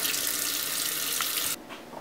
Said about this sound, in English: just run it under some running tap water you should be good to go